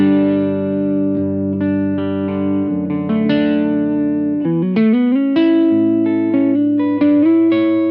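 An electric guitar played through a Blackstar Dept. 10 Dual Drive pedal on its clean channel, lightly driven tone, sustained chords and single notes ringing out with no talking.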